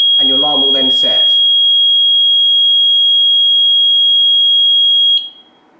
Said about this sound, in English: The countdown timer will then begin and your alarm will then set.